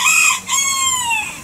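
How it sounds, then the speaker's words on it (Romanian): A rooster crows loudly and close by in one long call, its harmonic cry briefly breaking before stretching out and falling away, with no other sounds over it. "cocoșelul a început să-mi întrerupă discursul"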